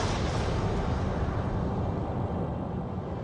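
Atomic bomb blast over Hiroshima, equal to 15,000 tons of TNT: a sustained, dense low roar of rumbling noise that fills the whole stretch at steady loudness, with no voices.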